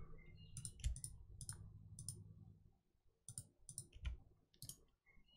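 Crisp computer mouse clicks come in small rapid clusters, close and quiet, with brief pauses between bursts against a faint low background hum.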